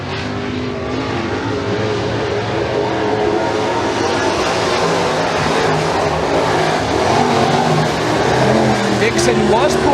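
Pro mod race cars roar around an oval dirt track at a county raceway, a continuous loud engine drone beneath a commentator calling the race.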